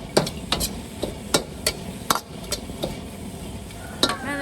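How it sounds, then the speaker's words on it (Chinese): Dry chili peppers are stir-fried in a pan with no oil, giving repeated sharp metallic scrapes and knocks of a spatula against the pan over a low background crackle, close up and without speech. "辣椒直接下锅这样炒，干炒"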